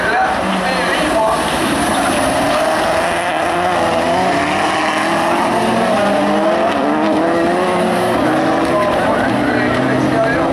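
Rallycross supercars race at Lohéac during qualifying, engines roaring loudly and continuously close by as a car runs along a concrete wall, with crowd noise mixed in.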